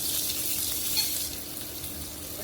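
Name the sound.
frying onion and garlic in oil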